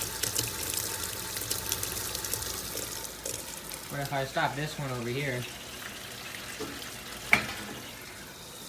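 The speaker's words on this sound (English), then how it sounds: "filling for rinse in this one now." Washing machine filling with water for its rinse cycle, a steady running-water hiss from the tap flowing throughout, with a person talking nearby over it and a brief clunk near the end.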